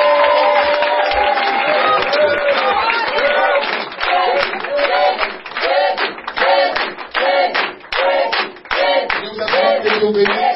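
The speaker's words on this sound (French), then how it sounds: "On acclame encore notre Dieu." A congregation at a Saturday prayer service in Divo claps and cheers in acclamation of God, dense rhythmic clapping and crowd voices filling the room throughout, with shouted praise mixed in.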